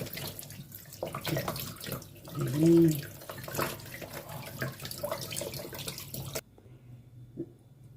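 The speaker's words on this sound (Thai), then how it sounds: "วิธีล้างปลาเห็นไหมคะล้างด้วยเกลือด้วยค่ะ" A kitchen tap runs steadily while a whole Nile tilapia is washed with salt, a close hissing water flow that cuts off abruptly near the end.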